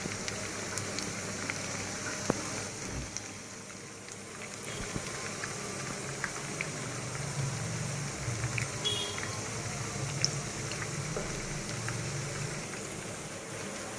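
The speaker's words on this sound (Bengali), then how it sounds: "তাই আস্তে আস্তে মিডিয়াম জালে আমি ধীরে ধীরে ভেজে নেব।" Cauliflower chops frying gently in oil over medium heat, a steady low bubbling hiss with soft crackles, continuous and moderately quiet, no voices.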